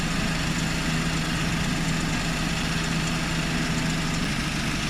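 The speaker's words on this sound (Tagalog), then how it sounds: "So umaandar yung ating auxiliary fan kasabay ng ating compressor." Auxiliary fan on a DA64W Suzuki Every Wagon running alongside the air-conditioning compressor, a steady, close, continuous whirring hum with a low engine-idle drone beneath, unchanging for the whole stretch.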